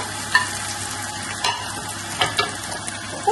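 Potatoes tumbled into onions browning in hot oil with green chilli and garlic, crackling and sizzling steadily with several sharp scrapes of a spatula stirring through the pan, close by.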